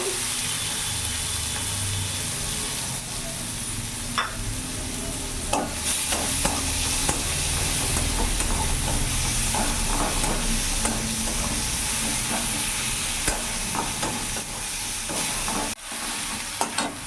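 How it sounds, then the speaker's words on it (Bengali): Chopped onion frying in hot oil with black cumin seeds as it is stirred, giving a steady loud sizzle and hiss with occasional scraping clicks, close up and with no talking. "এরই মধ্যে একটা পেঁয়াজ কুচোনো নিয়েছি পুরোটা দিয়ে দেবো"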